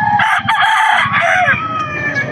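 A young rooster, a stag, at a pet market, crows loudly and close. Its call breaks in the middle and then carries on, over steady market chatter and a light clatter.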